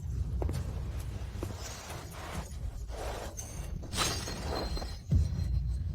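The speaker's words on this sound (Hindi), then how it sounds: "दवाई की बोतल टूट गई है" A medicine bottle shatters against a dense low rumble of background sound, with sharp breaking hits near the four- and five-second marks.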